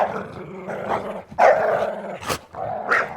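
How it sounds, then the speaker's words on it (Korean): Police dog barking and growling indoors from on top of a bed, a run of loud close barks with short gaps, no talking. "경찰견은 열려있는 대문을 지나 안방 침대 위에 앉아 짖기 시작했습니다."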